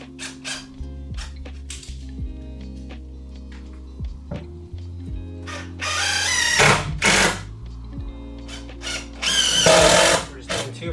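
Screw driven into a van bed frame during a conversion build, with two bursts of bright high-pitched whirring over a steady low machine hum and scattered clicks and knocks, while someone talks.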